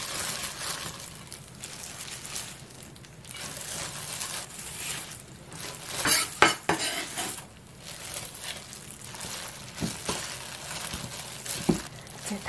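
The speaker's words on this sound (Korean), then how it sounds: "손으로 주무르시는 게 좋아요" Soft, squishy handling noises of a gochujang batter with starch and flour being kneaded by hand for a steamed gochujang pancake, continuous and close with a few sharper knocks, no talking.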